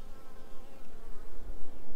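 Bees from a hive of darker Egyptian bees drone in a steady, close buzz for two seconds, with no voices over it.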